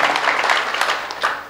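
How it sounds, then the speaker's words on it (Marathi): An audience at a Marathi kirtan in Isad claps together, a brief burst of dense, fairly loud applause that fades toward the end. "वाजवा मग टाळ्या."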